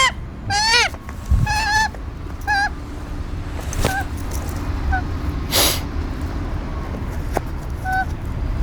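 A pet crow gives loud, harsh, repeated calls in short bursts, first in quick clusters and then in single cries spaced apart, with faint background noise between them.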